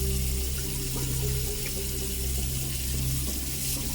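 Lentils rinsed under a running kitchen tap while being made into Bengali dal, a steady, close and continuous stream of water splashing into the sink, with no pauses and no talk.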